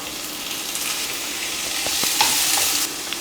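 Sliced tomato and onions sauté in a pan for a Kerala-style egg curry, a steady hiss of frying that swells with a few sharp stirring scrapes near the end, close and alone.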